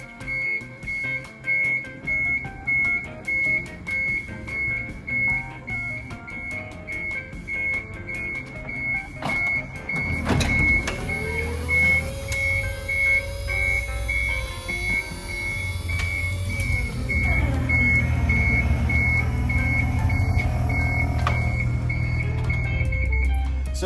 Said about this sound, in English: It will bring the lift out on its own and it will give me a double beep